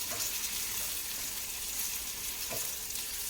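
Eggplant and potato sauté in a pan with a loud, continuous sizzle, plus a brief stirring scrape near the end, no talking.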